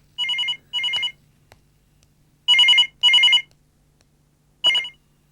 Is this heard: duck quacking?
no